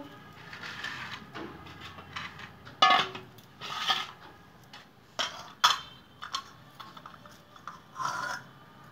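Knife cutting Chinese cabbage on a board, a series of irregular crisp chops and crunches spaced through a quiet kitchen, fairly close and moderately loud.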